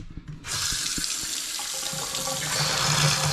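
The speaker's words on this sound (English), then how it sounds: "There's the running faucet." A faucet turns on abruptly and runs steadily, a loud continuous hiss of water splashing into a sink nearby.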